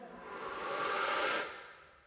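A single long breath drawn and released in open air, an airy hiss that swells and fades, soft and close.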